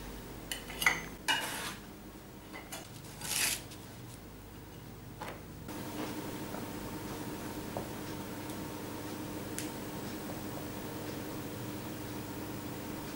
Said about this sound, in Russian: Печенье сразу же перекладываю на тарелку.